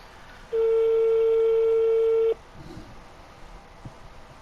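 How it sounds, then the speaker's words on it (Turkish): A single steady electronic phone ringing tone in GTA 5 Online sounds for about two seconds, then cuts off leaving faint background noise. "Çalıyor."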